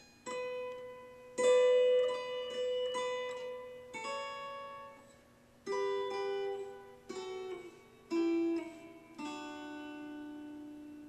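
Guitar picking out a lick, a slow melodic line of single plucked notes and double stops, each ringing and decaying before the next, clean and alone at moderate volume.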